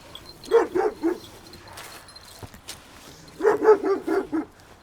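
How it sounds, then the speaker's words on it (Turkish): A dog barks in two quick bursts of four or five sharp barks each, separated by a short quiet pause, fairly close and loud. "Bak bak havlayışa bak."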